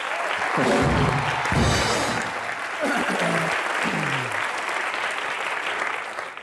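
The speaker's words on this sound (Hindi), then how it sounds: "जोरदार ताली अनुपम सर के लिए।" Studio audience applause on a television comedy show, loud steady clapping with a host's voice calling out over it at the start.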